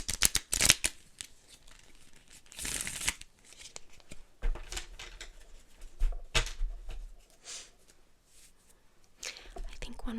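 Soft playing cards are shuffled close by in short, uneven bursts of riffling and flicking, with soft taps and pauses between.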